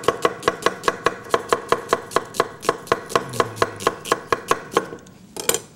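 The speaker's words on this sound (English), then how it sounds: "We take the onion and we julienne it" A knife julienning an onion on a cutting board: rapid, evenly spaced chops, close and crisp, about three to four per second, stopping just before the end.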